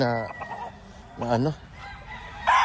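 A rooster crows twice up close with harsh, rising calls, with faint clucking and scraping between them.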